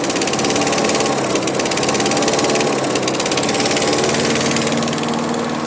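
A Dennis Lee energy machine engine runs steadily and loud, with a dense, continuous mechanical drone and a fast rattling pulse holding unbroken throughout, close up and without voices.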